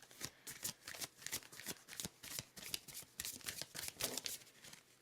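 Oracle cards being shuffled by hand in a rapid run of crisp, papery riffles and slaps that repeat steadily throughout, close and fairly quiet, with no voice.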